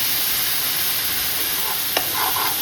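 Water poured onto spices frying in a pan with cabbage dish cooking, giving a steady close sizzle with stirring scrapes and a brief burst of hiss as the water hits, no talking.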